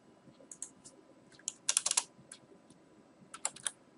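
Keystrokes on a computer keyboard while entering a search, heard as quiet scattered clicks and short rapid bursts of typing, close to the mic, with no talking.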